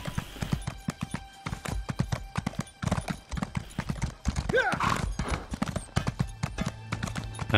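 Horses galloping in the video game Elder Scrolls Online, with quick rhythmic clip-clop hoofbeats close by, a brief whinny midway, and a voice speaking over the hooves.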